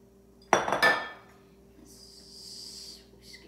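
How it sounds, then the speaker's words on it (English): Trader Joe's banana bread mix poured into a mixing bowl: one loud clattering knock and rattle of a bag or utensil against the bowl, then a soft, faint hiss of powder settling. "Now you add the baking mix,"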